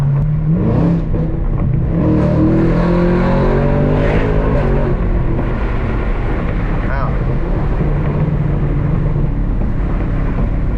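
Chevrolet Camaro ZL1 engine and intake roaring loudly as it revs up and pulls hard on Dallas streets, with rising and falling engine tones and people talking over the noise.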